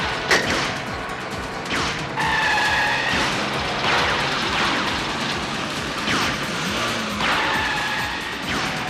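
A car in a police crime-drama chase drives fast with two loud tire squeals, each a sustained screech lasting about a second, over a continuous engine roar and road noise.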